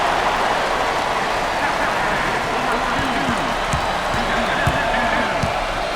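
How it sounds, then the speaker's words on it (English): A roaring arena crowd in the college basketball game NCAA Basketball 10 fills the background steadily, with ball bounces and court sounds mixed in beneath loud commentary. "Listen to the crowd."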